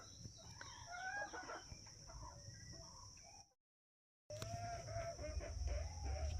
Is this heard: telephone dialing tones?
no